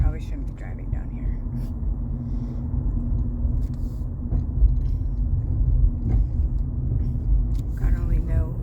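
A car rolls slowly through hurricane-wrecked streets on Siesta Key, a steady low engine and road rumble running throughout with faint rattles and knocks, while a person murmurs quietly in the cabin.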